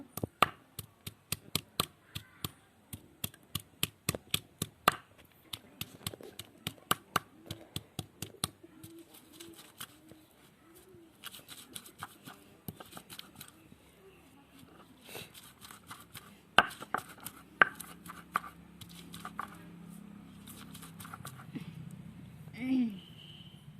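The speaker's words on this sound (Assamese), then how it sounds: "এইখিনি মই পদিনা পিচি দিম।" Mint (pudina) leaves being crushed and pounded by hand, a long series of sharp rhythmic knocks that later turn into softer scraping and grinding, with a voice talking throughout.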